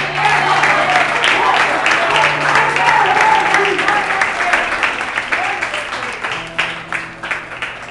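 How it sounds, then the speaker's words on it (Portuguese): A church congregation applauds indoors during a service, dense clapping that gradually thins out, while a voice talks over it. "Se entendeu, aplauda ele."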